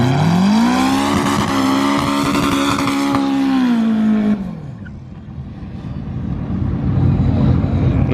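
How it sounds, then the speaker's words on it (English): A turbocharged drag race car with nitrous at Streetweek Sweden roars loudly as it launches. A strong, steady engine note holds for about four seconds, then cuts sharply and leaves a lower rumble that swells again. "If you listen closely now in the burnout, you hear the car go a little bit whop, and then the nitrous hits, and it just goes whop."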